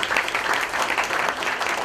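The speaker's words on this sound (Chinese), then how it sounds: "哎，给大家掌声一下吧。" Audience at a company's annual awards gala claps steadily, a brief, moderately loud burst of continuous applause filling a hall.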